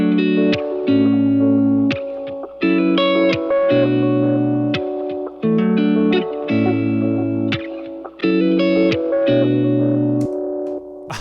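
A distorted electric guitar plays a riff of chugging chords with abrupt stops, and each stop trails off in repeating delay echoes from a Yak Delay plugin, loud and continuous.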